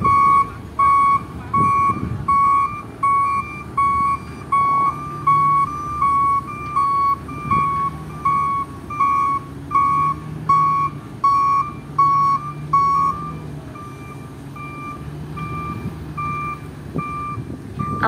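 A trailer truck hauling a roughly 20-ton bridge girder along a road sounds a loud, steady reversing beep that repeats at an even pace over a low diesel engine rumble, with no talking.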